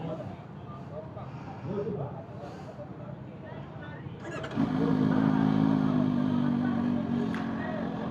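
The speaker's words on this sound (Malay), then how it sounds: "So motor ni 4 inline." A CFMOTO 1000cc inline-four adventure motorcycle engine starts up after a stretch of talking and settles into a loud, steady idle, with a brief rev bump near the end and speech continuing over it.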